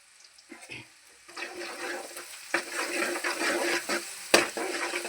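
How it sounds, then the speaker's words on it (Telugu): Chopped onions hitting hot oil with cumin seeds, a sudden rising sizzle that settles into a steady fry with a few stirring scrapes, close and fairly quiet. "ఆయిల్ మంచిగా వేడైంది. ఉల్లిగడ్డ వేసుకున్నా."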